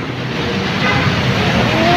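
Fast-moving road traffic flows in both directions along UN Avenue, a steady broadband roar of passing cars and engines that swells slightly toward the end, close and loud, with no talk.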